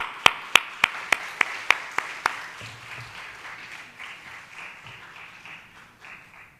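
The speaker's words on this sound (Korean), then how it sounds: "우리 큰 환영의 박수로 우리 선교사님 모시도록 하겠습니다" A congregation in church gives a welcoming round of applause as a missionary comes forward. It opens with sharp, evenly spaced claps and settles into a steady, moderate crowd clapping that slowly fades, with no talking.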